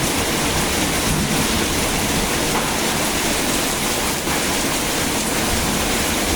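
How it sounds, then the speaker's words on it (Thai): Heavy rain pours steadily in a dense, unbroken roar, loud and close, with no voices. "ตอนนี้หนักมาก ฝนหนักมาก"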